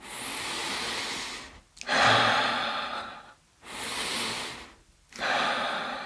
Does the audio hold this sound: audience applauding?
no